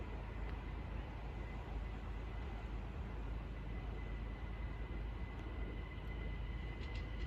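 Great Northern Class 387 electric trains pass through Hitchin station on the East Coast Main Line, a steady broadband rumble holding at moderate level throughout, with faint high squeals near the end.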